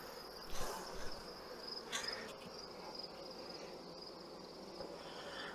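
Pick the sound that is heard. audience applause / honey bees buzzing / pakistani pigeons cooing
honey bees buzzing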